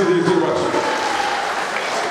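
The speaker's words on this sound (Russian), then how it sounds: "Ваши аплодисменты," Crowd applause at the opening of a sports complex in Izberbash, Dagestan, forms a short, loud, continuous wash of clapping with a voice briefly audible at the start.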